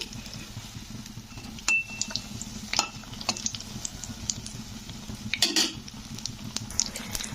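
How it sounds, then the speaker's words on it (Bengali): Pumpkin fritters fry in hot oil in a wok, giving a steady low sizzle with a few sharp metallic clinks and scrapes as the pieces are turned. "সাইডে দিয়েও এটা কিন্তু ভাজছি তো উল্টেও দিয়েছি"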